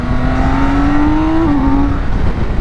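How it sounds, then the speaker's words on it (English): A 2022 BMW K1600 touring motorcycle, ECU-flashed, pulls hard at wide open throttle, its smooth engine note rising steadily before a brief shift dip, loud and continuous with wind rush and no talking. "we'll just feel kind of like what this bike can do kind of wide open"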